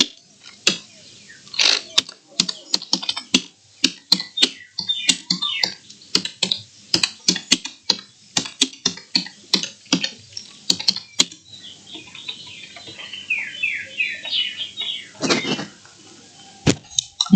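Quick bursts of keystrokes on a computer keyboard while filling in an online application form, clattering in uneven runs with short pauses, close and crisp, no talk over it.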